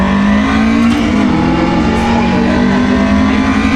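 A car racing simulator in an Akihabara arcade hums with a loud, steady engine drone that barely changes pitch, set against a dense wash of arcade noise.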